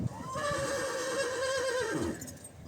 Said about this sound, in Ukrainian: це великі коні бельгійці